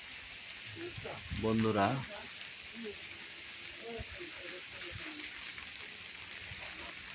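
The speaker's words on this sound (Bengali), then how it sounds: "তেমন বৃষ্টি পড়ে না, হালকা হালকা।" Light morning rain falls outside a rural home among swaying bamboo and leaves. It makes a faint, steady hiss, and a person briefly speaks over it near the start.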